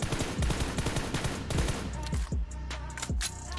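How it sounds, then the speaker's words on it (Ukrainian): Rapid gunfire in the PUBG Mobile mobile shooter while a player stands still shooting at training targets, dense bursts of loud close shots in quick succession with a few sharper single cracks toward the end. "Тому беремо, стоїмо і стріляємо по цим мішенькам."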